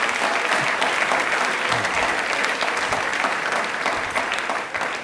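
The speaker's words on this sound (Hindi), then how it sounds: "प्लीज एक बार जोरदार तालियां हो जाए इनके लिए" A studio audience at a televised quiz show on Indian Railways bursts into loud, sustained applause for a contestant, dense clapping that holds steady for several seconds before tapering slightly at the end.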